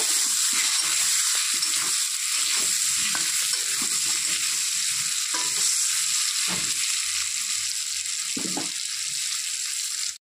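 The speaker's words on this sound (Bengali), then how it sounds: "হলুদ দিয়ে আলুটাকে একটু ভালো করে ভেজে নেব।" Potatoes frying in oil with salt and turmeric, giving a loud, constant hissing sizzle throughout, broken by occasional soft knocks and scrapes of stirring, close up and without talk.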